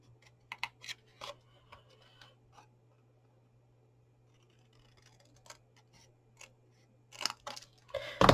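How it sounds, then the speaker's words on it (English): Scissors cutting paper while trimming a chunky gift box, a few quick crisp snips and rustles at the start, a quiet pause, then another burst of snipping and paper handling close by over a faint steady hum. "I'm going to flip that over and just cut it a bit better."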